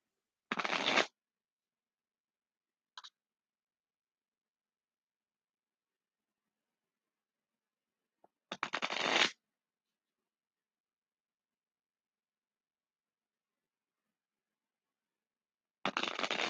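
Small tarot cards being handled and shuffled in a few short, crisp riffling bursts separated by long silences, close and fairly quiet.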